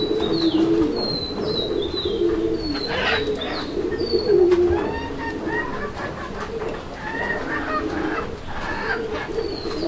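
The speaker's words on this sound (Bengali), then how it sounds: "ডাকের গেট আপটা তো দেখতে পাচ্ছেন কিভাবে ডাকে, একদম ভরপুর ডাকের একটা নর" A male deshi pigeon coos close by in repeated throaty, rolling phrases, with chirps from other birds and a little background voice mixed in.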